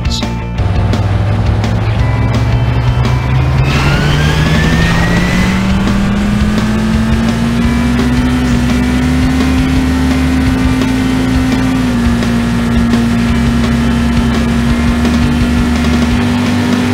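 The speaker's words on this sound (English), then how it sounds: "Gentlemen, start your engines." Engines in the City Racing 3D video game start up and rev, a loud steady drone whose pitch climbs over several seconds and then holds, with no talking.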